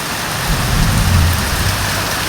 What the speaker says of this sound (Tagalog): May mga kulog pa